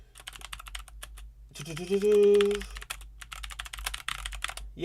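Rapid clicky keystrokes clatter on a mechanical keyboard, with a brief spoken interjection partway through.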